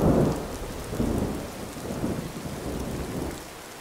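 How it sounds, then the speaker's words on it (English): Thunder rumbling over steady heavy rain in a Skyrim thunderstorm, with low rolling swells in a continuous downpour and no voices. "Nice thunder."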